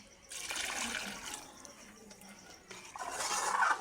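Water poured into a frying masala curry (salan) in a home kitchen gives two loud, hissing, gushing bursts with a sizzling splash between them, close to the microphone.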